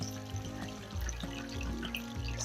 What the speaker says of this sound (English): I'm going to fill up the tray with lots of water